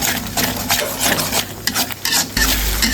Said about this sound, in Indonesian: Kita aduk-aduk.